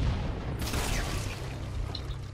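Explosion in the shooter game Halo: Combat Evolved Anniversary, a sudden blast breaking in after a short lull and then rumbling and hissing away over the next couple of seconds, fairly loud with no voices.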